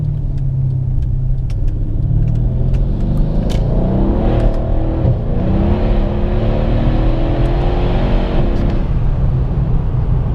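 Loud, close engine roar of a Mercedes-Benz W212 E63 AMG accelerating on a highway, pitch climbing in steps through gear shifts with brief dips between them, sustained under constant road and wind noise.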